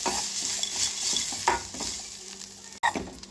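Grated coconut fries in oil while it is stirred, making a crackling sizzle broken by repeated scraping strokes and a few metallic taps of the spoon against the pan.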